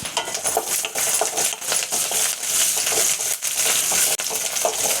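Ginger and green chillies are stirred in a pan over a low flame, a close, busy run of scraping and clinking from the utensil against the metal pan, with soft sizzling underneath and no talk.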